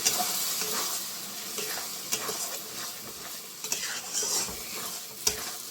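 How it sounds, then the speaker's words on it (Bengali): A spoon stirs chicken masala with ground tomato paste in a pan over high heat, giving repeated scraping strokes over a steady close sizzle of frying, with no voices. "টমেটো বাটা দিয়ে আমি ভালো করে মিক্স করে নিচ্ছি।"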